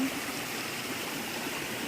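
A river in a Costa Rica jungle national park flows steadily nearby, a constant rushing burble with no voices.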